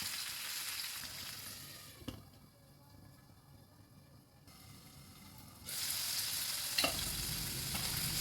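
Tomatoes sizzle and soften in a covered pan with a little water, a steady frying hiss that drops lower while the lid is on and returns louder near the end, with a faint clink.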